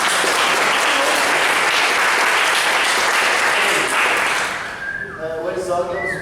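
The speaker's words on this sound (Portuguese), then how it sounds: "Então, um aplauso para o Manu." An audience at a storytelling event claps loudly and steadily, then the applause fades as a voice begins speaking near the end.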